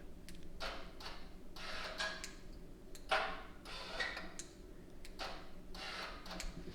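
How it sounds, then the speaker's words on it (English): A Varex XForce exhaust valve module on a Hyundai Elantra GT 1.6T clicks in a faint, irregular series of light ticks over a steady idling engine hum. "You can hear the module clicking, everything like that."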